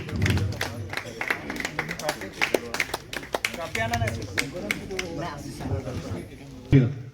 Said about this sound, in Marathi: जरा जोरात टाळ्या द्या.